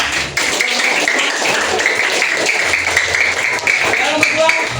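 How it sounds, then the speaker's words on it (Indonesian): A classroom of students applauds with a dense run of quick claps and taps, while voices talk over the clapping. "Ya, tepuk tangan."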